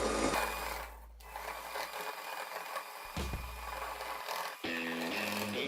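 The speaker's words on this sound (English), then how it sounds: "whisk again until you've got a batter" Muffin batter for chocolate chip muffins being whisked in a bowl, a steady buzzing, mechanical whirr that runs close and fairly loud with a couple of brief dips and pauses, no talking.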